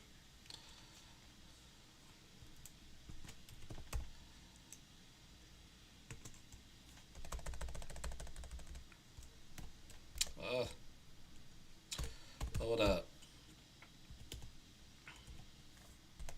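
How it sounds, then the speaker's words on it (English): Fast bursts of clicky keyboard typing come and go while a person speaks quietly in between. "Cause I'm typing what's today."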